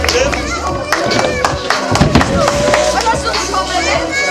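Applause and scattered clapping from the crowd at a BMX contest in Mölln, greeting the third-place rider, steady and close under a loudly talking announcer.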